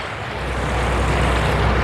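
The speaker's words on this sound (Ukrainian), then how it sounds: "Зараз будемо перепливти паромом." A river ferry pulling away from the shore on the Nile at Luxor, giving a loud, steady low rumble of engine and water mixed with wind noise on the microphone, with no talking.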